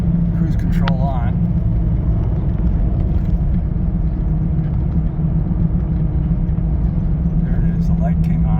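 A 1998 Jeep Cherokee XJ cruising at about 30 mph, with a constant low engine rumble and road noise filling the cabin, steady throughout, while a voice talks over it.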